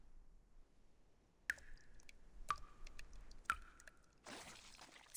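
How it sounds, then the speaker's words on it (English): Water drips in a motel setting in the Reverse 1999 video game, three distinct echoing plinks spaced about a second apart over a quiet background, followed by a brighter hissing burst. "Sound of dripping water echoes nearby."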